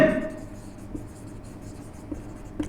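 Marker or chalk strokes on a classroom board during a Class 12 chemistry lesson on haloalkanes, soft scratchy writing sounds running steadily close by, with a few light taps and a brief voice at the start.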